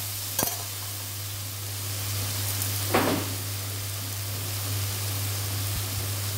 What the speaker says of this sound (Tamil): உப்பு போட்டு நல்லா வதக்கிங்க.